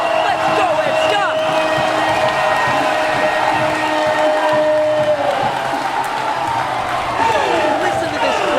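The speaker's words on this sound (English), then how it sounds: "Listen to this crowd. They are going off right now." A parkour competition crowd at a pro semi-final roars and cheers loudly and continuously after a standout run, with whoops and a voice talking over the din.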